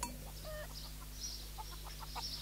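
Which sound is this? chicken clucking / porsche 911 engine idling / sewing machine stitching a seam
chicken clucking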